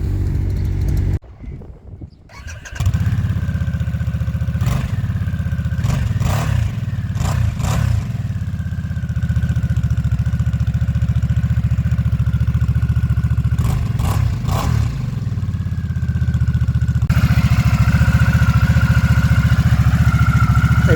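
A stock Harley-Davidson motorcycle engine idles in a steady, loud, close low rumble, with a few sharp clicks and brief revs breaking through and a short drop in level early on.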